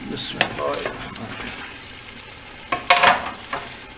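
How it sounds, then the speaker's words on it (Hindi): Fried eggs sauté in masala for egg korma, giving a soft sizzle broken by a few scraping stirs of a spoon in the pan, louder near the end. "अब हम इसको थोड़ी देर इसके अंदर भूनेंगे।"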